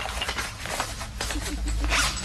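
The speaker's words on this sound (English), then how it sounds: "it seemed that poor Tanya had developed a bit of a thing for zips" Quick rasping zips from a clothing zipper pulled several times in a television comedy clip, close and fairly clear over a faint low hum.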